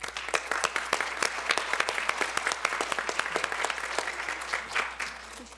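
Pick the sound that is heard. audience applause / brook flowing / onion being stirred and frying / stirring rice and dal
audience applause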